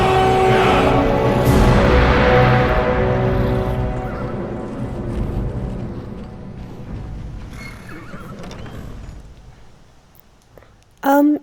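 A horse in Skyrim VR gives a loud, drawn-out whinny, close at first and then trailing off, followed by quieter stable and ambient noise and a brief sharp sound at the very end.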